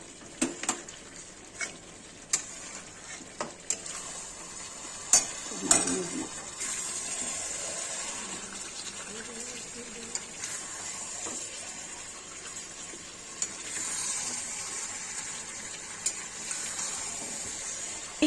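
Mutton being stir-fried in a pan for curry, with a soft sizzle and scattered clicks of stirring heard close and quiet, and no voices.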